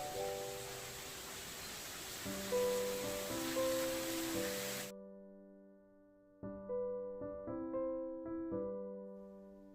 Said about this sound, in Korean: 동굴 근처에서 떨어지는 폭포 소리가 시원합니다.